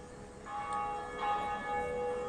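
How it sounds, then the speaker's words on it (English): A large bell tolls in a Dark Souls cutscene, its long ringing tones rising and sustaining over a soft ambient bed, moderately loud with no speech. "The bell is rung."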